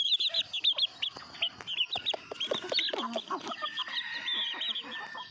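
Yellow chickens, crossbred backyard fowl, cluck repeatedly in quick, close calls with some higher squawks, several birds overlapping in a steady busy chorus.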